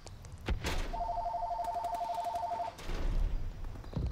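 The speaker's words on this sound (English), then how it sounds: "Phone's ringing." A telephone trills in one sustained electronic ring of about two seconds, sitting clearly above steady game noise and thumps.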